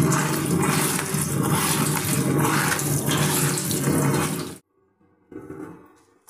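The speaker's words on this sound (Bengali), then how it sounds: "এই যে আলু আর লাউয়ের খোসা কুচি ভালো করে ধুয়ে নিলাম ভাজি করার জন্য।" Tap water runs steadily over chopped potato and young bottle gourd peel being rinsed for a stir-fry, a loud continuous splashing rush that stops abruptly, followed by a short quieter burst of water.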